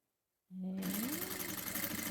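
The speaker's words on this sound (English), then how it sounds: "I try to sew these two right sides together along this long edge" A sewing machine runs steadily after a brief start, stitching two pieces of fabric right sides together along a long edge for a headband; a close, continuous mechanical whirr with no talk.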